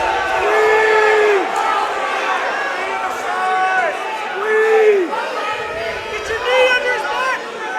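A wrestling match crowd at a dual meet against Neshaminy yells loudly and steadily as a wrestler tries for a pin from a cradle hold, with overlapping shouts and calls swelling in waves throughout.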